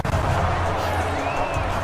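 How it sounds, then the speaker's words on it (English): Stadium crowd noise from a simulated football video game, a steady roar of cheering fans at the home Memphis Express game, loud and continuous throughout with no distinct voices standing out. "That got this Express crowd going."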